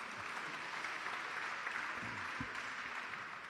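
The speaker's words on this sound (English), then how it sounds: "You can clap, that's fine." Faint, distant applause from an audience at a GOP voter town hall, a soft continuous wash of clapping that holds evenly across the whole stretch.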